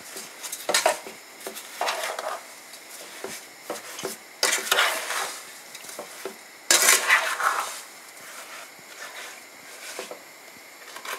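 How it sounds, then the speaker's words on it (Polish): Strawberry jam with vanilla being stirred in a pot on a gas stove, a spoon scraping and clinking against the pot in irregular strokes, with soft bubbling between the strokes and no voices. "I cały czas będę mieszać."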